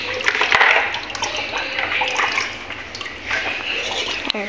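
Water pours steadily into a container for coffee, a continuous splashing wash that stays fairly loud and close throughout, with no speech over it.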